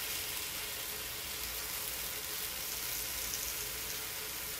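Chicken breast sizzles steadily on a grill as part of a diet meal, a dense, continuous frying crackle that holds even and close throughout with no pauses and no voices.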